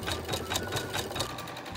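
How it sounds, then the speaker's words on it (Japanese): An embroidery sewing machine stitches a design onto a drawstring pouch, its needle pounding in a fast, even mechanical rhythm up close and alone. "この刺繍ミシンでちょっと刺繍を入れたいと思います"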